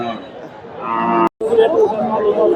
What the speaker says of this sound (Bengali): 8 লিটার দুধের গাভী